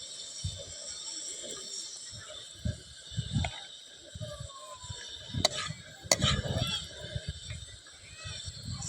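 Oil sizzles softly in a hot pan while food is fried outdoors in a natural setting, with steady hiss broken by scattered scraping and tapping from stirring, a few sharper clinks, and faint voices in the background.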